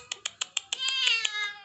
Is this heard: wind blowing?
no